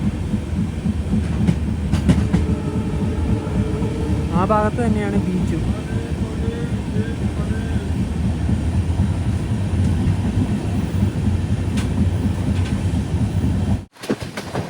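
Poorna Express running in sleeper class: steady low rumble and rail clatter fill the cabin throughout, with a voice speaking over it and a brief dropout near the end.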